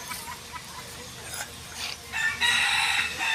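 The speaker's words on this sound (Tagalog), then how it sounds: "Yung mga sisiw nito" Chickens and chicks on a farm, with rooster-like crowing and clucking calls rising toward the end, brief tonal bird cries over a steady outdoor background.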